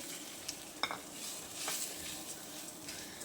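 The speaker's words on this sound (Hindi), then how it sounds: "स्लो फ्लेम पे इसकी थोड़ी सी भुनाई कर लेंगे।" Oats being dry-roasted and stirred in a pan over a slow flame, a soft continuous sizzle with scraping spoon strokes and a couple of sharper clinks, close and fairly quiet.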